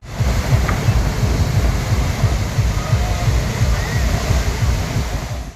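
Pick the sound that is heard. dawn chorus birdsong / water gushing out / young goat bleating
water gushing out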